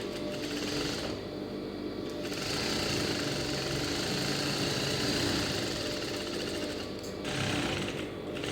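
A sewing machine runs a top stitch along a lined blouse band, a loud, continuous close-up whirring hum that holds steady for the whole stretch with no talk.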